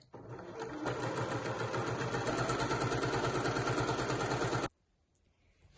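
A sewing machine stitches a seam down the folded edge of fabric for a drawstring bag, a steady rapid mechanical whir and needle chatter for several seconds, then it stops abruptly into near silence.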